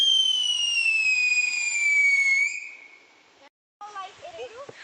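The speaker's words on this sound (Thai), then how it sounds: "พากันจุดบังไฟที่ซื้อมาจากร้านที่ไปซื้อเบียร์เนาะ" A shop-bought rocket firework launches with a long rising whistle that fades after a couple of seconds, followed by a short pause and then scattered faint pops, outdoors at a mountain lake village.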